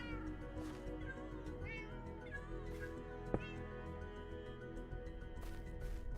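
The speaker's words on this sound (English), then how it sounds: "You hear those cats just meow in tandem?" Minecraft cats meow repeatedly, several overlapping mewing calls at moderate loudness over steady background game music.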